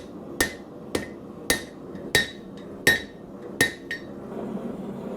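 A hammer forges the spike and bevels of a combat axe made from a leaf spring, with about seven sharp, ringing metal blows at a steady, unhurried rhythm, close and loud.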